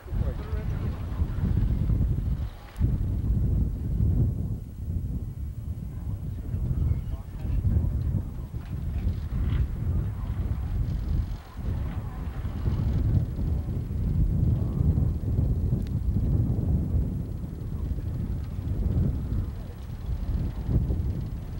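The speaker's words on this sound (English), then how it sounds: "It is very windy out here" Strong wind buffets the microphone outdoors at Reno Tahoe International Airport, a constant low roaring rumble with gusty swells and brief dips, and people talk faintly underneath.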